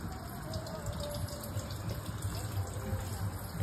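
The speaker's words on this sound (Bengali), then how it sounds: "এখানে গাছে জল দিচ্ছে আর এটা কোথা থেকে জল পড়ে পড়ে যাচ্ছে" Water pours steadily from a tap or hose onto garden plants, a continuous soft splashing and gushing that stays close and even throughout, with no one talking over it.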